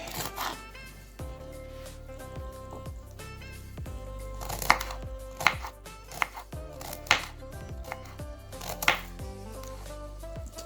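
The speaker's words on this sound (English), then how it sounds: "I hope this is finely chopped celery" Celery being finely chopped with a knife on a wooden cutting board: a steady run of crisp, close knocks and thuds, several sharper strikes standing out, with no talking.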